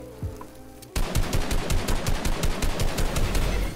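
Rapid automatic gunfire in a video game, starting abruptly after a brief quieter moment and continuing as a fast, loud, evenly spaced burst of shots to the end.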